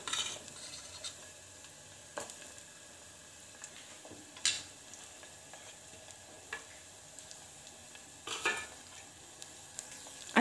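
A spoon stirs garlic, ginger and green chili paste in a pan, soft scraping and a faint sizzle broken by a few sharp clinks of utensil on metal, quiet and close with no speech.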